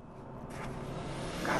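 A Ford RS car engine building up revs, a brief rising rumble that grows slightly louder over a second and a half, heard from close by.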